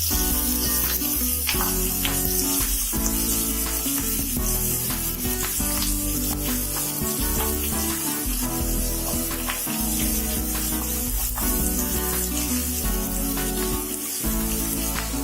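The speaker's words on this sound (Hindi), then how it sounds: "ये अदरक लहसुन डालने के बाद भी थोड़ा सा भूनने के बाद देखिए प्याज हमारी भून गई।" Onion frying in a pan with crushed ginger and garlic for an aloo gobhi sabzi, giving a steady, loud, dense sizzle with crackles and occasional stirring scrapes, close up and continuous with no talking.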